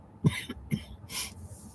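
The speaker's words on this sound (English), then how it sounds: "Excuse me while I cough" A few short coughs and throat-clearing bursts from one person, close and moderately loud, spaced irregularly over a quiet room background.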